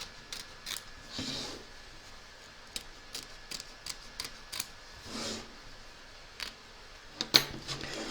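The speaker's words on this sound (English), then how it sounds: "turn your hoop over and trim close to the stitching" Scissors snip away excess fabric and thread close to the stitching on the back of an embroidery hoop, giving a series of small, close, crisp clicks at an uneven pace in an otherwise quiet room.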